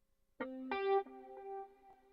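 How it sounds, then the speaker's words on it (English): A few quiet clean guitar notes through a Valeton GP200's shimmer reverb mode ring out, each sustained and smeared by a shimmering, lingering reverb tail. "this is the mode that has the shimmer reverb"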